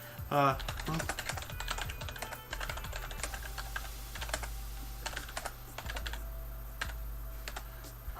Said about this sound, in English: I'll type it in general chat